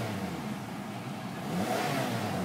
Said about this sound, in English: Listen to how quiet this engine is.